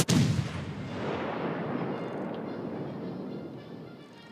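A battleship's main guns fire a single heavy salvo in a naval video game, an abrupt loud boom that swells into a long rolling rumble and slowly fades, with no talking.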